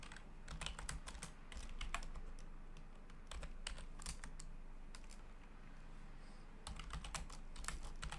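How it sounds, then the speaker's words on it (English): Rapid typing on a computer keyboard, clustered bursts of sharp key clicks separated by brief pauses, close and fairly quiet, with no talking. "So just typing this out for the Discord channel."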